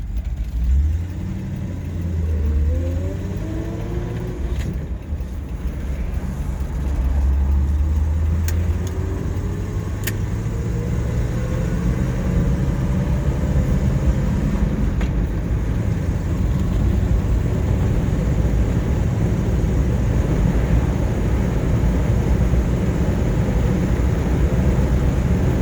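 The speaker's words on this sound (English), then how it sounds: "Idles nicely." A 1941 Buick Super 56C convertible coupe's engine runs at a steady idle, a continuous low rumble that stays fairly loud and even throughout, with slight rising tonal swells and no talking.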